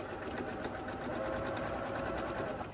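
A sewing machine runs steadily, stitching a half-inch seam on a flat-bottom tote bag, a continuous fairly quiet whir with a fast mechanical pulse throughout.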